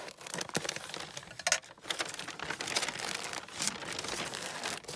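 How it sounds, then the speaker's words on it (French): Packing tape on a soft mailed parcel is cut and pulled, giving close, irregular crinkling and tearing crackles with a few sharper snaps, with no talking. "Hop, je vais couper le scotch."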